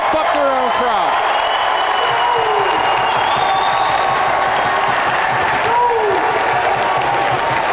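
Home crowd at a men's college volleyball match between North Central and Loras, a dense roar of cheering and clapping filling the gym throughout, with commentators talking over it.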